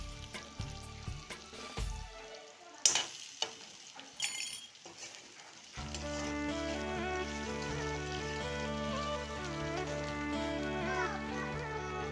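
Ginger and garlic fry in a pan, with a few clinks and knocks at first and then a steady, close sizzle that continues to the end. No one speaks.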